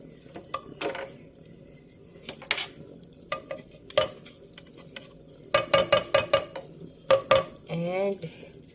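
Butter sizzles and crackles in a pan while a utensil stirs and scrapes, with short bursts of clinks and scraping over a steady low fry, close and moderately loud.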